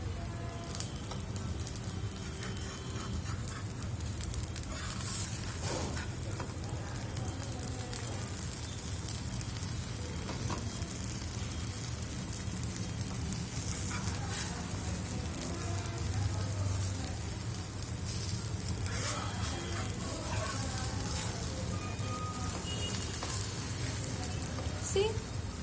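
A hotel-style karam dosa topped with spice mixture sizzles and fries on a hot pan, a steady crackling hiss that runs throughout under occasional scraping and flipping sounds, with someone talking over it.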